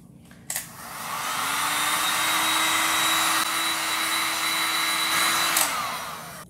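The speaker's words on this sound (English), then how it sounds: "I'm gonna take my heat gun and see if we can rush it up a bit." A heat gun blows hot air over chalk paint on a glass bottle, switching on with a click into a loud, steady close whooshing roar with a constant whine for about five seconds before cutting off.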